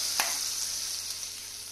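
Red chili hitting hot ghee for a Punjabi kadhi tadka gives a sharp burst of sizzle, then a steady, close frying hiss that continues on its own.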